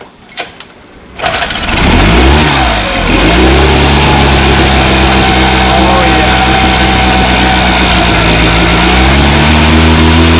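A small Honda outboard motor coughs, catches and revs up, then runs loud and steady with a buzzing drone that rises and falls slightly.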